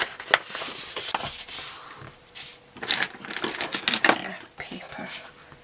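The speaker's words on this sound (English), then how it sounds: "So I'm going to fold and burnish on all my score lines." Paper score lines being folded and burnished with a paper creaser while making a Stampin' Up! roll-top gift bag, giving soft crinkling, rubbing and sliding strokes in irregular bursts, close and quiet.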